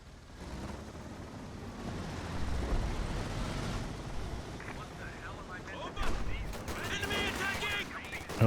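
Machine gun fire in Company of Heroes 2 rattling through a battle, with thumping artillery and rumbling explosions underneath, while a voice talks over the fighting.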